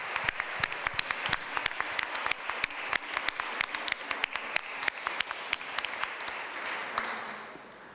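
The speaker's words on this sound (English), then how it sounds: "A big round of applause for you" Faint applause from an award ceremony audience at a film festival: scattered, sharp individual claps over a soft wash of clapping, thinning toward the end.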